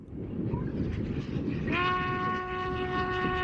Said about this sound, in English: Harry Potter's train crosses the world-famous Glenfinnan Viaduct every day